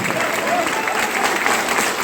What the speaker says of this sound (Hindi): तालियां बजा रहे तो ठीक से बजाइए।